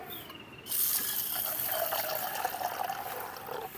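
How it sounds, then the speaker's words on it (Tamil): Water pours steadily into a small cup of urad dal with a little fenugreek, a continuous splashing, trickling fill heard up close in a village kitchen. "தண்ணி ஊற்றிக்கலாம்."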